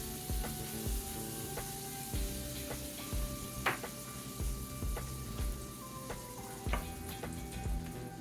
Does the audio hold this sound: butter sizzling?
yes